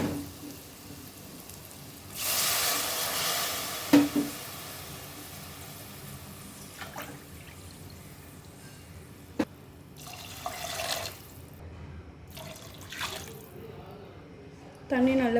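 Water pours into a cooking pot for plain biryani, a burst of splashing filling sound with later shorter pours and drips, while someone talks nearby.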